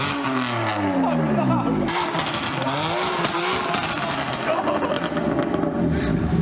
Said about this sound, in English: Here is a quick clip for you guys of Matt Armstrong's new M4 Scorpion exhaust.